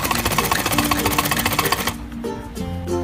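Sewing machine running a fast, rhythmic double stitch along a kurti hem for about two seconds, then stopping and leaving a few soft mechanical clicks.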